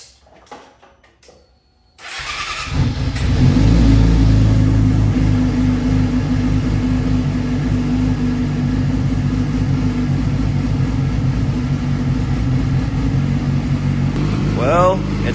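A Yamaha R6 sport motorcycle engine, just after an oil change, cranks over and catches after a quiet moment, then settles into a loud, steady idle close by, with a person talking briefly over it near the end.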